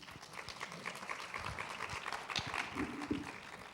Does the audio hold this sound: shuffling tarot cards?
no